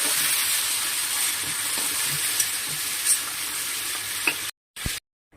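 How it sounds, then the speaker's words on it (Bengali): Panch phoron and green chilli sizzle in hot oil, a bright, continuous frying crackle close by with a few small pops, breaking off abruptly near the end. "ফোড়নে দিয়ে দেবো পাঁচফোড়ন আর কাঁচা লঙ্কা"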